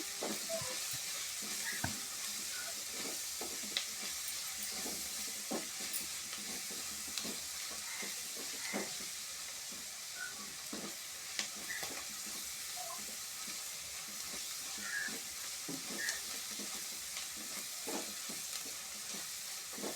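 Chopped onions with salt and turmeric fry in a pan: a steady, close hiss of sizzling oil with scattered scrapes and clicks of stirring throughout, and no talk.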